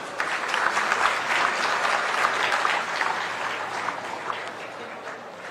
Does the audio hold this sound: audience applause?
yes